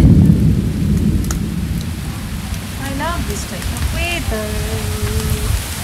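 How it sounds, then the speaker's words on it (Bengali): Heavy rain pours steadily with a low rumble of thunder, while a voice speaks briefly and a few birdlike tones sound over the downpour. "এখন এরকম ভাবে বৃষ্টি পড়ছে"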